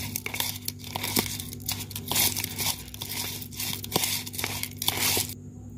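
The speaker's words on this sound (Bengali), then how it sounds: "ভালো করে একটু মেখে নেব।" Longan fruit being mixed by hand with sugar and chili powder, giving close, wet crinkling and squelching sounds in an uneven rhythm, with a steady low hum underneath and no talking.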